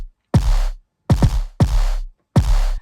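A layered kick drum, a New Art kick stacked on a regular kick in music production: four heavy, distorted thumps with a gritty, noisy top end, two landing close together, loud and dry with silence between hits.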